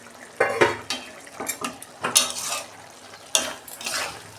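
A metal lid lifted off a cooking pot of bottle gourd and prawn curry, with several close clinks and scrapes of metal on metal spread over a few seconds and a little bubbling between them, no speech.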